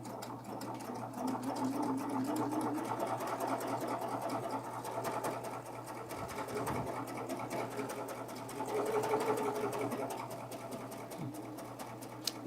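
A sewing machine with a side blade trims a fabric edge while a tunic is assembled. The motor whirs steadily and close, rising and easing slightly in speed through the run.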